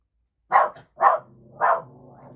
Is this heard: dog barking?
yes